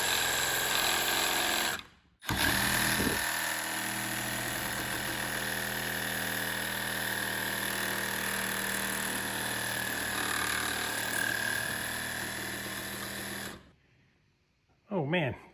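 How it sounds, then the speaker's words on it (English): A Sawzall reciprocating saw cuts the rubber out of an engine mount bushing held in a vise, a loud, steady buzzing rasp running almost without a break for about eleven seconds after a brief pause, then cutting off. "I'm going to use a Sawzall and cut out the rubber"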